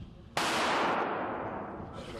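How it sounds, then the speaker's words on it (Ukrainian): A single very loud gunshot, apparently sniper fire, cracks sharply and then rolls into a long echoing decay that fades over about two seconds. No one speaks. "Прямо во время интервью раздается очень громкий выстрел."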